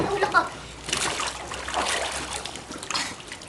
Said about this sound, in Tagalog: Ilulubog ko ulit ulo ko.